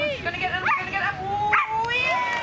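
Dog barks and yips at a Highland Gathering agility show in Scotland, a few short sharp calls rising over steady crowd noise and ongoing talk nearby.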